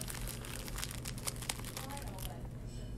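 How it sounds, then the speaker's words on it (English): A plastic bag holding earbuds crinkles softly and continuously, a faint rustling texture with a few sharper crackles, under a quiet room background. "Do you hear it? It's crinkly."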